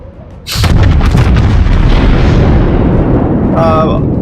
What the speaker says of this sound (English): There is probably 5 ships firing at that Yamato right now.